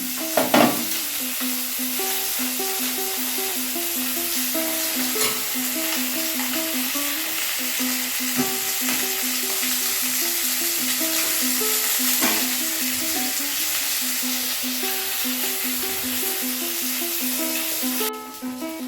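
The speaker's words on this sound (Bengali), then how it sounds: "মাছগুলো ভাজা হয়ে গেছে" Small fish fry in mustard oil in a pan, giving a loud, steady, crackling sizzle that runs unbroken and close, with no voices over it.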